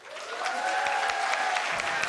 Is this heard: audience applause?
yes